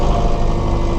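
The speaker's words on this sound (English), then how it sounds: "now I got the grapple on here and it's idling" John Deere 1755M small tractor with a heavy grapple attached, its engine idling in a steady, loud, close drone with no other sounds.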